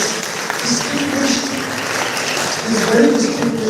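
Audience applause at a book launch event honouring a distinguished governor, a moderate steady clapping from a gathered crowd sustained for a few seconds, slightly swelling toward the end.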